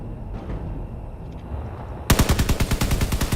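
Rapid machine gun fire from a combat scenario in the video game Space Engineers bursts in loudly after about two seconds of low background rumble, as a steady rhythmic stream of close, punchy shots.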